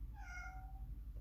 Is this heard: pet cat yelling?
yes